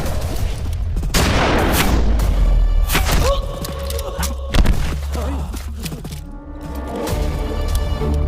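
Gunfire in an Indian South action film during a wild boar hunt: a few sharp, loud shots and heavy thumps burst out over a dense, busy soundtrack, with voices mixed in.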